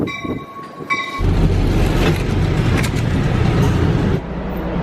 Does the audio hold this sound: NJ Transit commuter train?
yes